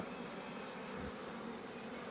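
Honeybees at a green-painted hive hum in a continuous, dense buzz of many insects, steady and fairly close, with no other sounds and no speech.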